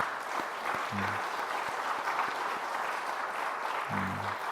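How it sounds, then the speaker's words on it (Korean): Church congregation applauding in congratulation during a Sunday worship service, steady sustained clapping from many hands throughout, with faint low murmurs near the start and end. "우리 정상원 집사님 축하의 박수 한번 내주시죠"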